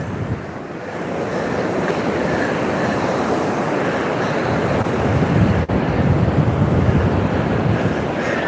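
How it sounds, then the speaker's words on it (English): Strong gusting wind roars across a microphone with a windsock at Myrtle Beach, South Carolina, blending with the continuous wash of ocean surf in a loud, unbroken rush with no voices. "It's a super windy day, so I have an external microphone hooked up with a windsock."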